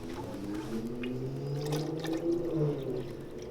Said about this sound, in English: I said, don't also just go dumping water.